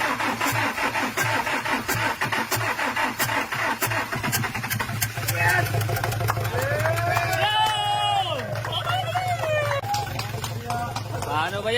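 A 2019 Toyota Fortuner engine cranks and catches, then settles into a steady idle, with people talking loudly nearby throughout.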